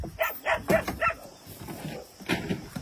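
Beagle dogs at a shelter moving into a new area bark in a quick burst of four sharp yips, followed by softer whimpering and a few more barks nearby.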